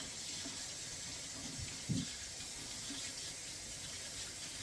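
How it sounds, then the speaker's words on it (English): Hot water runs steadily into a basin being filled for blocking crocheted or knitted garments, with a faint continuous hiss and wash of water throughout and a brief splash near the middle. "I'm going to mix in some hot water"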